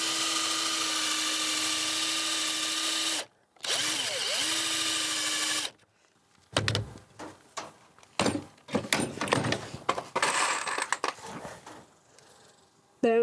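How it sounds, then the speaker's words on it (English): A power drill whines steadily through two bursts of drilling pilot holes into a wood runner of a chicken coop, close and loud, followed by clunks and handling noises as the work is shifted. "I use a drill to drill the pilot holes."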